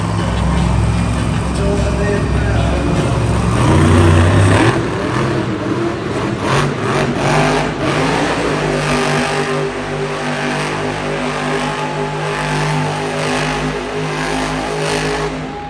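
The Gravedigger monster truck, a black and green machine, roars through donuts at a Monster Jam arena show in Hartford, Connecticut, its engine revving hard and continuously, loud and close, with crowd noise around it.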